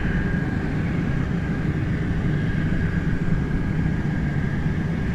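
Steady broadband roar of a 68-year-old Douglas DC-6 propeller airliner at Anchorage's Ted Stevens International Airport, a continuous engine drone with a faint tonal hum, heard from a moderate distance without voices.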